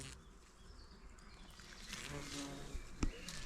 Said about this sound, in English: we found a rhododendron. I believe it's a rhododendron, absolutely full of bees.